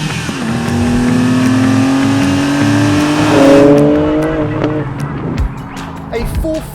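A 2023 BMW M2 with the S58 engine accelerates hard and loud, its note climbing steadily before a shift partway through, then climbing again and trailing off toward the end.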